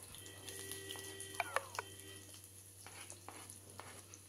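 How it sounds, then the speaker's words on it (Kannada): Chopped onions fry in oil in a pan with a soft, faint sizzle and crackle, punctuated by a few sharp clinks and scraping stirs at close range. "ನಂತರ ಉಳ್ಳಾಗಡ್ಡಿನ ಸರಿಯಾಗಿ ಫ್ರೈ ಮಾಡಿರಿ."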